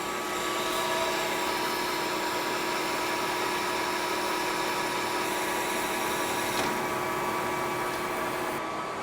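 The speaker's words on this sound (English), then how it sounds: "We're just gonna get it faced and center drill it so we can take some real cuts." A brand-new Lion metal lathe facing and center drilling a workpiece, a steady whining motor hum with a continuous tonal drone and faint cutting noise, unbroken and even throughout.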